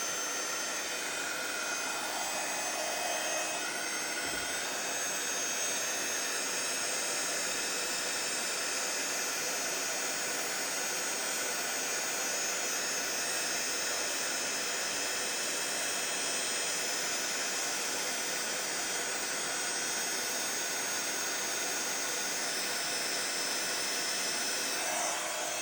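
A heat tool blows hot air onto a stamped card, a constant loud whooshing hiss that runs unbroken throughout with no talking.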